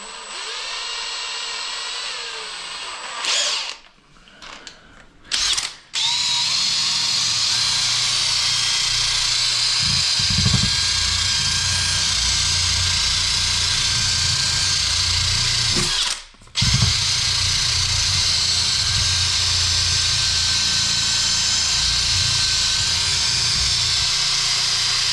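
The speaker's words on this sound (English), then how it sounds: "First I want to take a wire brush in there to clean it off." A drill spinning a wire brush to clean a toilet flange, a loud steady whine that runs nearly nonstop, with a few brief stops and restarts early on and one short pause midway.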